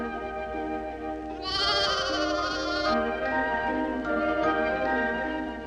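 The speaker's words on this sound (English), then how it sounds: "A nanny goat isn't going to budge," A nanny goat and her young kids bleat close by in a farm setting, a loud harmonic burst of overlapping calls in the middle with softer bleats continuing before and after.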